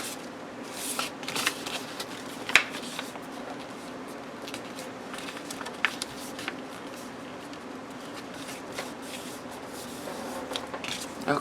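A sheet of paper is folded into even thirds for a traveler's notebook weekly layout, giving soft rustling and a few crisp creasing scrapes close up, with no one talking.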